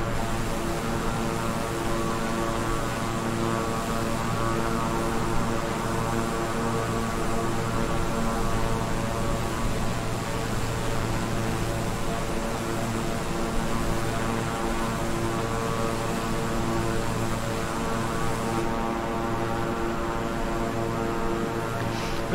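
A King Air 350i twin-engine turboprop in Microsoft Flight Simulator, flying between Powell, Wyoming and Bozeman, Montana, hums steadily with a layered propeller drone at reduced throttle, unbroken and even throughout.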